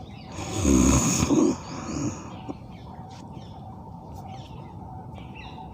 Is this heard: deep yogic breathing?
yes